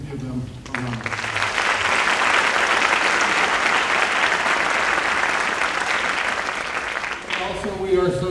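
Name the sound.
audience applause for counseling department staff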